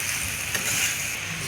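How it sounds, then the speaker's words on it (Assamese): Garlic, ginger and onion sizzle and fry in a pan while being stirred for a pork belly dish, a steady close hiss with soft scraping, no talk. "নহৰু, আদা, পিঁয়াজখিনি মিক্স হোৱাকৈ ধুনীয়াকৈ লৰাই দিব লাগিব"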